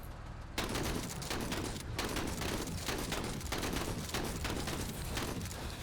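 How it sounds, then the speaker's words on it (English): Shotgun fire in a turn-based tactical RPG, heard as a dense, loud, continuous barrage of overlapping blasts and crackling impacts with faint rhythmic surges, with no talking over it. "I do love the shotgun."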